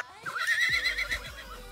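A horse in the survival game Rust gives a single loud, close whinny with a rising then wavering pitch, accompanied by a few low thuds like hooves.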